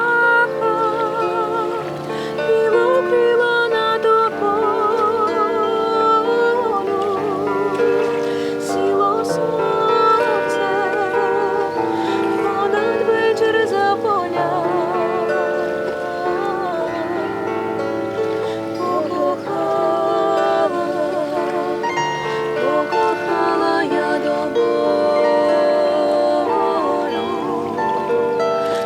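A bandura plays the Ukrainian love song "Sila ptakha": steady, dense plucked strings with ringing harmonic melody lines, sustained at an even level for the whole stretch with no voices.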